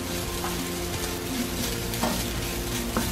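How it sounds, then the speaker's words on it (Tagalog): Garlic fried rice sizzling in a pan at home while being stirred, a continuous close frying hiss broken by occasional scraping spatula strokes. "makita nyo ang tunay na pagluto ng fried rice namin dito sa bahay"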